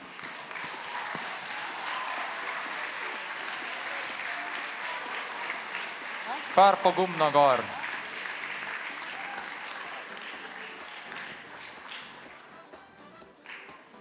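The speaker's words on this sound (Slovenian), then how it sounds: "Ja, en aplavz za Sedanko." Audience applause at a St. Nicholas concert prize-giving, a steady crowd clapping that swells briefly as a voice calls out over it, then gradually thins and fades toward the end.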